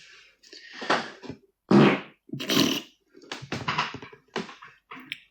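Loud, raspy fart blasts come in a quick run of separate bursts, some long and buzzing and others short, with brief silences between them.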